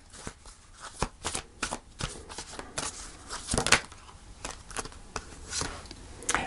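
Tarot cards being shuffled by hand, close and fairly quiet, with repeated quick riffling and soft slapping bursts in an irregular rhythm.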